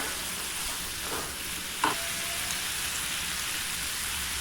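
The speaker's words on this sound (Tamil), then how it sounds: "இறாலும் பூண்டும் சேர்த்து கொஞ்சம் நேரம் வதக்கலாம்." A steady, dense sizzle of prawns and garlic sautéing in a hot pan, with a brief metallic clink partway through; no voices.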